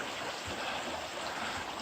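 Clean water of Arquilla Creek in Manistee National Forest flows by a small bridge, giving a steady, broadband rushing and trickling wash, heard close and continuous with no voices.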